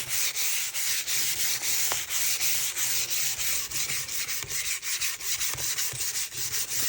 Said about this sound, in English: All right, now we're getting to the 220 grit.